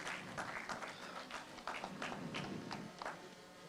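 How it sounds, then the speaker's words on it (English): An audience applauds at an awards ceremony during an AI and quantum computing panel event, with dense steady clapping filling the hall for the whole stretch and no break. "Can we have a big round of applause"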